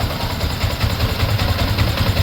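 A Yamaha Sniper 155 motorcycle engine idles steadily after a water pump seal, impeller bearing and impeller replacement, a close, even low rumble with fast regular pulsing and no talk.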